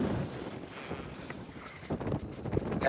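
Strong wind sweeps the hilltop at Thangalpara in Vagamon, buffeting the microphone in low rumbling gusts that build toward a loud blast at the end, with no one speaking.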